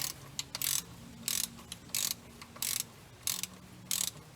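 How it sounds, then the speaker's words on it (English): A ratchet wrench tightening a 13 mm bolt on the AC compressor of a 2015 Ford Focus, rapid clicking bursts repeating about seven times at a steady pace, close and clear. "after you make sure the compressor is sitting right, finish with this 13 millimeter bolt"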